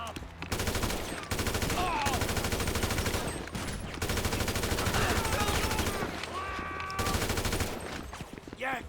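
Gunfire rings out in Grand Theft Auto V: dense, continuous bursts of automatic shots over loud game music and effects, with brief drops near the start and around seven seconds.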